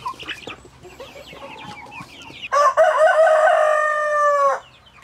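Young roosters from a garden chicken coop, first clucking and short calls close by, then one loud drawn-out crow near the end.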